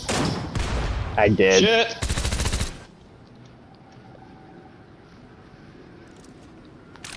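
A quick burst of gunfire rattles close and loud in the video game Hunt, with a player's voice over it, before it drops to quiet background ambience.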